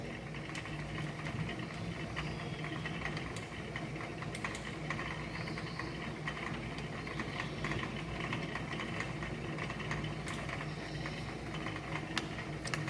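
An electric motor drives a Watt governor in a lab, giving a steady, continuous mechanical hum and whir with faint rattling, constant throughout and with no voices.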